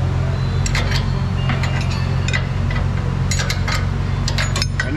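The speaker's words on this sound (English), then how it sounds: "Right now I'm loosening the nut that is holding on to that cam eccentric bolt." A nut is loosened on the cam eccentric bolt of a 2012 Ford Expedition 5.4 3-valve 4x4 during an alignment. Scattered bursts of sharp metallic clicking rise over a steady low hum in a workshop, with no talking.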